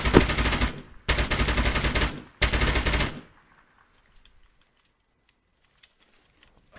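Bursts of automatic gunfire in a co-op military video game, three sustained loud volleys in quick succession, then near silence with faint distant sounds.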